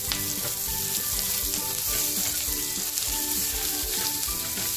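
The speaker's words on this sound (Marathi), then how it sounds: "खोबरं चांगलं भाजून घेतलंय आणि कांदा भाजताय." Onions roasting in a pan with coconut, cloves and cardamom for a village-style mutton masala, giving a steady, loud sizzle and crackle throughout with no talking.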